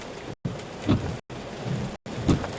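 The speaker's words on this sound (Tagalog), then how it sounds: "Tapos ganito kalakas yung ulan." Heavy rain pours steadily with a dense roar on a vehicle stuck in traffic, broken by brief cutouts, with low rumbling swells rising under the downpour.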